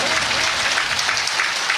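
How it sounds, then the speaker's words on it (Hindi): Loud, dense applause from the crowd at a Shri Shiv Katha religious gathering, a continuous roar of many hands clapping close by, with a voice faintly audible beneath it. "एक बार सभी के लिए जोरदार तालियां हो जाए,"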